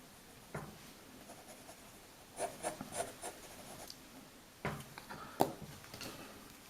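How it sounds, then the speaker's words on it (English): An HB graphite pencil shades across paper in soft, faint scratching strokes that come in short bursts with quiet gaps between them. "So now I'm going to use the HB pencil"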